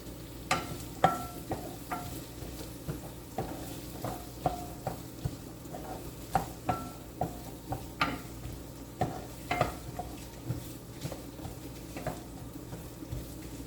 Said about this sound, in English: And I'm going to saute them.